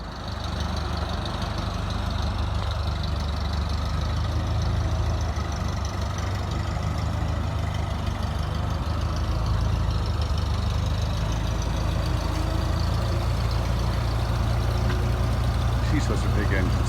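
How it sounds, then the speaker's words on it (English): Big engines idle at a steady, continuous low rumble that stays close and even throughout, with a faint knocking texture and people talking over it. "those are big engines"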